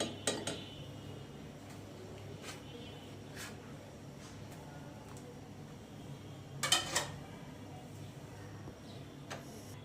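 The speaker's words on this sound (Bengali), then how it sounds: "এখন অল্প একটু আমি ঘি এখানে দিয়ে দিব চামিচের সাহায্যে" A spoon adding ghee to a pan for carrot halwa: a few soft, close metal clinks and taps, mostly at the start and a brief cluster near the end, over a quiet room hum with no talking.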